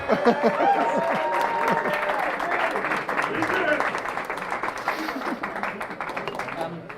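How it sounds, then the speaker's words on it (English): An audience at a bartending event applauds loudly and steadily throughout, with dense clapping that thins slightly toward the end and faint voices mixed in. "I think that deserves a cheer, I think."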